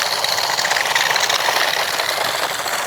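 RC monster truck rock crawler, a 4WD remote control toy car, driving with a steady, continuous motor whir and rattle that stays fairly loud and even throughout, with no talking.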